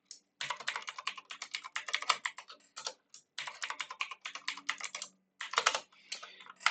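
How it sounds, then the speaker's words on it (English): Rapid bursts of keystrokes on a computer keyboard as a sudo smbpasswd command is entered on a Linux machine, close and clear, with short pauses between clusters of clicks and no talking. "So I'll go sudo smb password -a user1, which was Josh."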